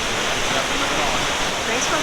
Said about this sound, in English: we got some water coming down through here